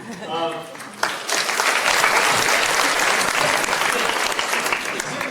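Convocation audience in a hall bursting into loud, sustained applause after a web developer is introduced; a voice is heard briefly at the start before dense clapping takes over.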